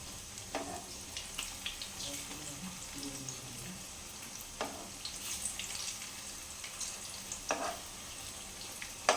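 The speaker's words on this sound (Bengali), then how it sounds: "এটা 2 পিঠেই ভালোভাবে মানে পাল্টে পাল্টে ভেজে নিতে হবে।" Raw banana fritters fry gently in oil over low heat, a soft steady sizzle with occasional sharper crackles and clinks as pieces are turned, quiet and close, no one speaking.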